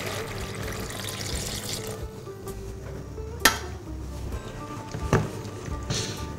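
Lobster broth pours into a boiling pot, a steady watery rush and bubbling with a couple of sharp clinks, fairly close and without talk.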